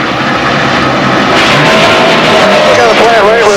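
NASCAR stock cars roar around the racetrack during the 2005 MBNA RacePoints 400 Nextel Cup race, a loud, continuous engine drone with a rising whine of a passing car near the end and faint commentary beneath.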